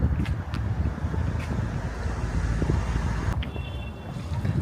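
Steady broadband wind rumble outdoors in Korea, buffeting the microphone continuously with a low roar throughout.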